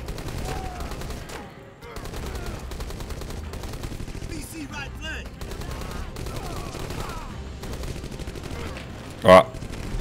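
Rapid gunfire bursts aimed at a helicopter in the Rambo video game crackle through dense game audio, with repeated automatic volleys, a louder sharp blast near the end and a player talking over the action.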